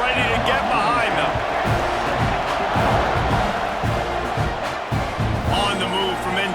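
Simulated stadium crowd at a South Carolina vs Texas A&M college football game in EA College Football 26, a loud steady roar of cheering throughout with a commentator talking over it.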